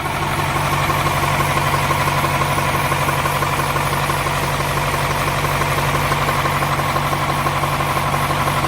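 A truck engine idles close by in a steady, even rumble with a constant low hum, no voices.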